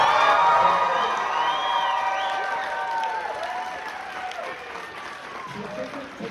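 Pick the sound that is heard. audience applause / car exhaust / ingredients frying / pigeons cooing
audience applause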